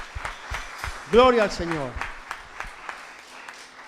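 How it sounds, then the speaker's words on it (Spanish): A church congregation at a general worship gathering applauds, with a run of steady, moderately loud claps through the whole stretch and a voice speaking over them. "Le damos un aplauso al Señor."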